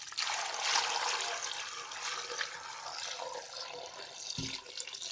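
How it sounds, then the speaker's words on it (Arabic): Water pours into a large pot for carrot juice, a continuous splashing rush that runs throughout and is strongest at the start. "دابا هنايا عندي باش نعبر الماء، غندير 3 لتر ديال الماء تقريبا حتى ل4"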